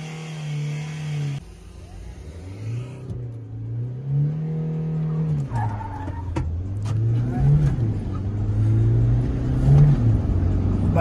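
A Mahindra Scorpio S11 and a Hyundai Creta launch side by side in a drag race, engines climbing through steady revving pitches with rising loudness and some tire noise, close and continuous.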